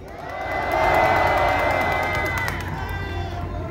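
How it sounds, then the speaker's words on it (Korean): Rally crowd applauding and cheering at a youth assembly on the eve of March 1st Independence Movement Day, a steady, dense wash of clapping and voices that swells early and holds loud throughout. "힘찬 박수로 모시겠습니다"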